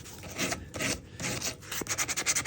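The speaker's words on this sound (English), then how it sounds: "I'm going to take a good look at this wood grain after I get this sanded and cleaned off." Sandpaper rubs back and forth over a wooden axe handle in close, rhythmic rasping strokes, the passes quickening into short rapid scrubs at the end.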